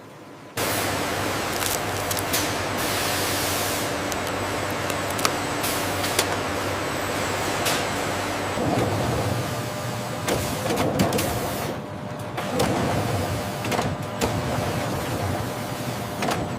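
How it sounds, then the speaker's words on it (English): A heat shrink tunnel in a poker card factory seals film around card boxes with a loud, continuous machine hiss and whir, shifting in tone midway with intermittent mechanical thumps. "The boxes now enter the heat shrink tunnel, where the specialized film tightens around the product"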